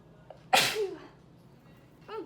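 A single sharp, close sneeze bursts out during a hair-curling session with a wand, followed by quiet room tone and a faint vocal sound near the end.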